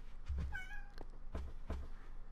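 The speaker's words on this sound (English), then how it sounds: "Sorry if you can hear a cat meowing." A house cat meows once, thin and nasal, near the microphone, against a low background hum with a few soft thuds.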